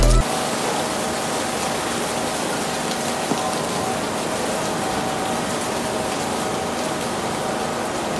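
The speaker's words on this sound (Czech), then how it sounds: "Je velká zima, hodně prší" Heavy rain pours steadily at a cold rally stage, a dense, unbroken hiss that stays loud and even throughout with no break.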